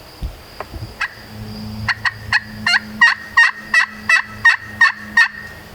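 A wild turkey gobbles during a hunt, a clear nearby series of rapid rattling gobbles that builds into a run of about ten evenly spaced pulses, with quieter calls and clucks just before and no speech.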